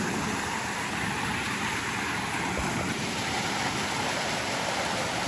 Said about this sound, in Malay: Tengok air terjun.